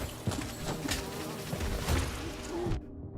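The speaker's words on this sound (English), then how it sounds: "We have not defeated one of the big bees, one of the cannon bees." Continuous insect-like buzzing of a cannon bee enemy in the Hollow Knight video game, steady and fairly loud with game sound effects layered over it, no talking.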